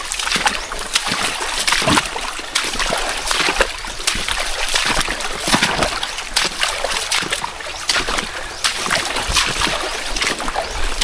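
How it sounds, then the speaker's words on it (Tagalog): High creek water rushing and splashing steadily on a mountain farm trail, close and loud throughout with no pauses. "Medyo malaki ang tubig ng sapa"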